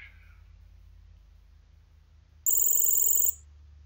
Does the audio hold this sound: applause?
no